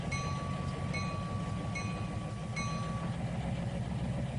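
A simulated train rumbles along in Trainz 2019, a steady low engine drone with faint periodic clicking and a thin sustained tone, moderately quiet and without talk.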